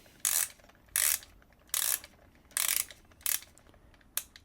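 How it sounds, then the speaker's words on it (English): Clockwork winder of a Disney Store Lenny toy being turned on its side, giving six short bursts of dry ratcheting clicks in an even rhythm, close and fairly loud with quiet gaps between. "You wind him on the side, just like the movie."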